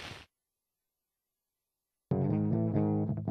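Electric guitars played clean with no plugins, a brief snippet, then silence, then a loud, close run of clear picked notes with a steady rhythmic chug from a metal band's recording.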